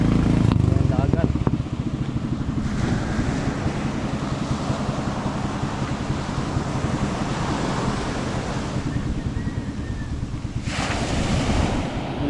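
Sea waves wash onto the shore at sunrise, a steady, loud surf roar mixed with strong wind buffeting the microphone. A person talks over it at times.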